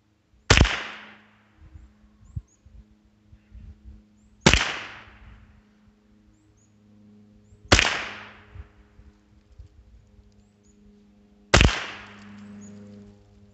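Four sharp .22 rifle shots fired with Aguila Super Extra ammunition, loud and evenly spaced about every four seconds, each with a short ringing decay and faint handling clatter between them.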